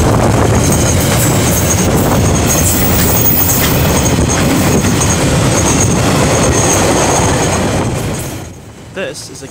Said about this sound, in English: we see DL9659 passing the Beretta Road crossing with train 483.